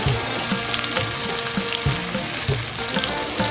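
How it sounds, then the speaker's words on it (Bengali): Onion fries in hot oil in a pan for a chicken dish, a dense loud crackling sizzle with a low periodic thump and scrape of the spatula every second or so, close up and without talk. "প্রথমে তেল গরম হয়ে গেল পেঁয়াজটা দিয়ে দিলাম"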